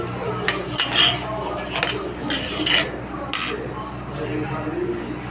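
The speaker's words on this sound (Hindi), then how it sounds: "और एक चम्मच ले लेती हूँ मैं।" Metal spoon clinking against a dish while sweets are eaten, a few sharp light clinks spread through the clip over a steady room background with faint movement.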